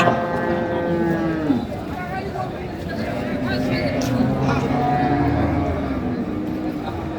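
Cows and calves low at the Ambari cattle market in Dinajpur, long drawn moos rising over a steady crowd hubbub, with voices talking throughout.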